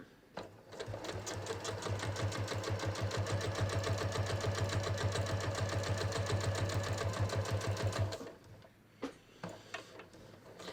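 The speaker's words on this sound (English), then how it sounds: "Now I'm going to stitch forward till I get to the edge of my Scotch tape." Sewing machine stitching a lapped zipper seam, a fast even mechanical whir and ticking that runs for about eight seconds, then stops, followed by a few faint clicks.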